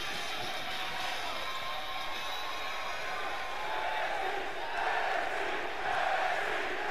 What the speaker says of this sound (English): And the crowd, as always, chanting NXT as these 4 cruiserweights get ready